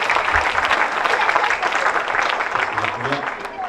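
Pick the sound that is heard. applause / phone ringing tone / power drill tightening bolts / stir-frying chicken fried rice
applause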